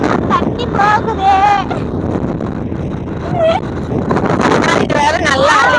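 Outdoor wind buffets a microphone with a continuous rough roar while nearby voices talk over it almost the whole time.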